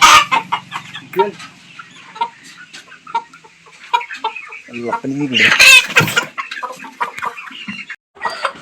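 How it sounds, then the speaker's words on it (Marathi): Chickens cluck and squawk close by on a small poultry farm, with scattered bursts and one louder flurry midway, while a person speaks intermittently over them. "8 कोंबड्या झाल्या"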